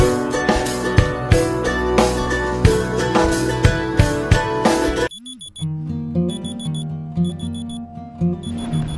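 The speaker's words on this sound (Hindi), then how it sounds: "सुबह के 3 बजे मेरा पहला अलार्म बजा" Loud music plays for about five seconds, then a bright electronic alarm tone beeps in repeated rhythmic bursts, ringing clearly up close.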